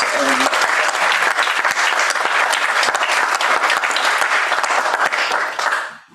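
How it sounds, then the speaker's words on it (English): A graduating MFA class at PAFA, the Pennsylvania Academy of the Fine Arts, gives the teachers a loud, sustained round of applause at the ceremony: dense crowd clapping that follows a brief voice, then fades out at the end. "A round of applause for the teachers."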